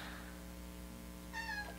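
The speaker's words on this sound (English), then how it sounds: "He is just meowing over there" A kitten gives a single short meow near the end, fairly faint and somewhat distant over a low steady indoor hum.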